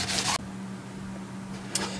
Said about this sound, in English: You get all the grease off it, like so.